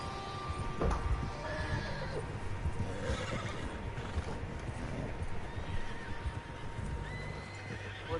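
Several horses whinny and clip-clop in a Red Dead Redemption 2 game scene, hooves and neighs layered over a dense outdoor background at moderate distance.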